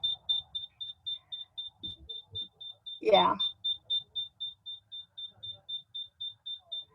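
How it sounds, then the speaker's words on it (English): A home alarm going off, a rapid train of high, evenly spaced electronic beeps running throughout at moderate level, with a brief spoken word breaking in partway. "I'm hearing an alarm going off in my home."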